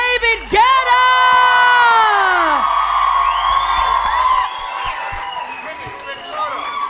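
A loud live-show crowd cheers, whoops and claps for a DJ at Stache Revolution in Ft. Lauderdale, with high sustained shouts rising and falling over the noise and a voice speaking through it.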